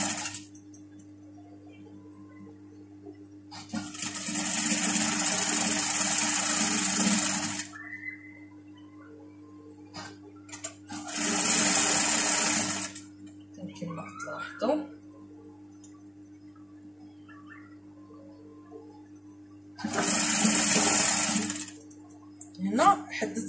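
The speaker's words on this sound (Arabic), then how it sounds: "غادا نخيط بهذه الطريقة هذه." A sewing machine stitches a pajama garment in three steady whirring runs of several seconds each, separated by quieter handling of fabric and someone speaking.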